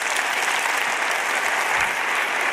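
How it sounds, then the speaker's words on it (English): Dense, sustained applause from an audience fills the room, loud and continuous throughout with no speech over it. "So please give them a round of applause."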